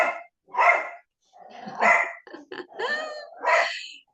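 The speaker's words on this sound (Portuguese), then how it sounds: "meus cachorros." Pet dogs barking indoors, close and loud, in a run of sharp barks and yelps in separate bursts with brief silences between them.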